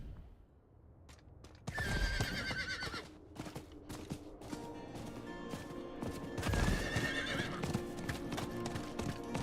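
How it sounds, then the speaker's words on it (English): Hooves clip-clop in a steady gallop with repeated horse neighs and whinnies from a mount in the action role-playing game Diablo IV, loud and close, alongside scattered clashing game effects and no talking. "let's get this horsey out of here"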